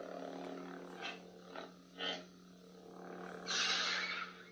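A Disney Mara Jade Legacy lightsaber gives a steady electric hum, broken by several sharp crackling clash bursts spaced about a second apart, the last one longer and brighter.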